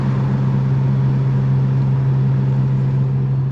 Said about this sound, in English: Doesn't sound like piston slap or rod knock. It could be valve train, like maybe a cam chain.